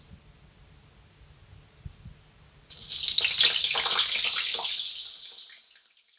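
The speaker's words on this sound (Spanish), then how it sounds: "la berenjena troceada y sazonada la echamos en una sartén que hemos puesto al fuego con aceite de oliva" Diced, seasoned eggplant dropped into a pan of hot olive oil on the stove, bursting into a loud, steady sizzle after a quiet start, then fading out.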